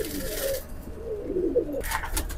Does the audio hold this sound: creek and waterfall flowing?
no